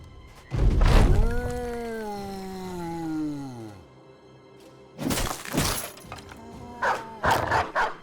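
Dog in the video game Battle Brothers giving a drawn-out, falling howl-like bark, followed by sharp thuds and crashing hits of combat, all close and loud without speech.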